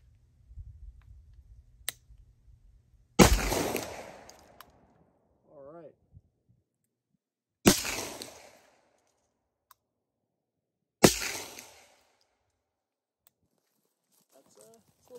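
A Beretta 1301 shotgun fires True Ball slugs at a 100-yard range in three loud, sharp reports spaced several seconds apart. Each decays quickly, with quiet gaps and brief talk between them.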